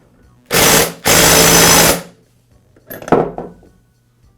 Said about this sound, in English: I'll use my clutch removal tool, or in this case, installation tool, and an impact